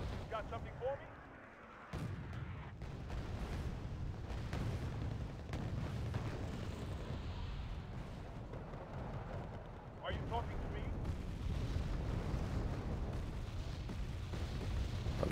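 Artillery cluster munitions burst in the real-time strategy game Wargame: Red Dragon, heavy booming impacts rolling continuously through the clip with sharp onsets near two and ten seconds, while players talk over the combat.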